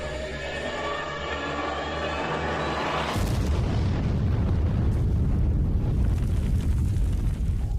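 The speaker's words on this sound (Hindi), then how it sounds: "30 से 60 फुट का धमाका था ये, सिर्फ एक छोटे से लैंडमाइन से" A small landmine goes off in a controlled detonation in open ground: a steady rumble, then a sudden loud boom that settles into a dense, roaring blast noise with no voices.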